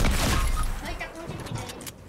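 Gunfire in a shooting video game, a burst of shots at the start that fades into scattered, softer pops, with a player talking over the action.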